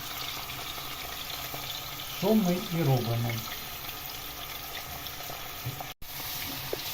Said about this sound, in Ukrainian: Чуєте цей звук і бачите, як булькає.